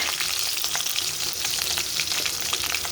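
Green chilies and onion frying in a pan, a dense, continuous bright sizzle with crackling spatter throughout, close and fairly loud, with no voices.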